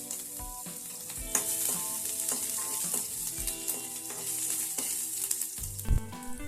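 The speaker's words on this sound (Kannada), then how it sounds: "ಎಣ್ಣೆ ಬಿಸಿಯಾದ ನಂತರ ಸಣ್ಣಗೆ ಹೆಚ್ಚಿದ ಬೆಳ್ಳುಳ್ಳಿ ಹಾಕಿ, ಶುಂಠಿ ಚೂರುಗಳು ಸ್ವಲ್ಪ," Finely chopped garlic and ginger pieces sizzle in a spoonful or two of hot oil in a kadai for hotel-style Manchurian, a steady crackling fry punctuated by repeated metallic clinks and scrapes of a utensil, close and without speech.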